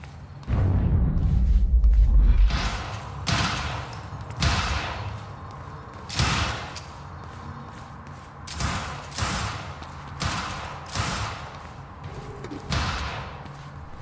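Bursts of gunfire from the Quantum Break video game ring out in repeated volleys, several heavy thumping shots early and then clustered rattling bursts spaced a second or two apart, loud and continuous across the stretch.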